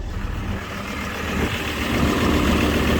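Diesel vehicle engine idling with the exhaust removed and the DPF drilled out, a steady broadband rumble heard up close that swells slightly toward the end, with no speech.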